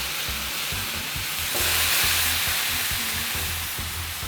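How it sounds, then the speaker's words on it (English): Pineapple slices sizzling on a Blackstone griddle, a loud steady frying hiss with crackling spatter that swells briefly midway, close and continuous. "We are gonna get a couple of slices of pineapple down on the griddle and get them nice and toasted up"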